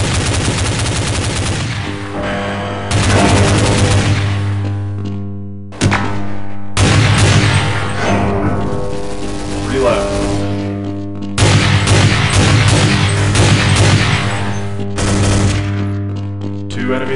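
Counter-Strike 1.6 gameplay carries loud, rapid automatic gunfire in long sustained bursts broken by brief pauses, with game-effect tones underneath.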